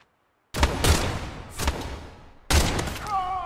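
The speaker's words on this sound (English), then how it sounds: "Oh shit, he threw a grenade." Explosive bursts and gunfire in a survival shooter set in swamps: sudden loud booms and crackling shots in three close, rough clusters after a quiet start, ending with a faint whining tone.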